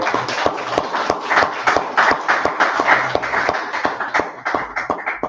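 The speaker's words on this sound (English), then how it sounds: "Get the Most High hand clap. Real clap." A church congregation gives a hand clap, a dense burst of many hands clapping together in a crowded room, with sharp rhythmic claps sounding close and loud throughout.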